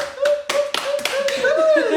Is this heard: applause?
yes